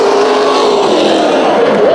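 Race cars roar together at a Bakersfield Speedway heat race restart on the green flag, a loud, dense engine blare with a rising pitch sweep near the end, with no voices.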